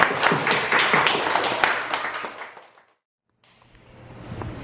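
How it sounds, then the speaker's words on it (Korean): A church congregation claps and applauds warmly, welcoming a guest speaker, then the clapping fades out into a brief silence before faint clapping and room noise return. "우리 식구들 여러분 뜨거운 박수 부탁드리겠습니다"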